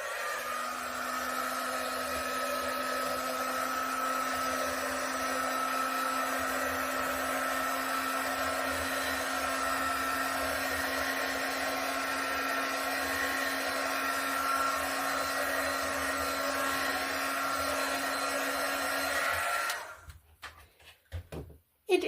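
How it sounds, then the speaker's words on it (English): A heat gun blows hot air over wet poured paint on a canvas, making a loud, steady whooshing drone with a low hum that runs for about twenty seconds before cutting off, followed by a few light clicks. "I'm just going to hit this with a heat gun."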